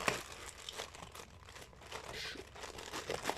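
Crinkly foil packaging for a Bakugan card and plush toy pack is torn and crumpled up close in quiet, irregular bursts of rustling, with no voice.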